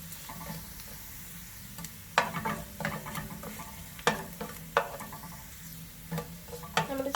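Chopped shallots and curry leaves sautéing in hot oil after mustard seeds pop: a continuous sizzle punctuated by several sharp clacks of a spoon stirring against the pan.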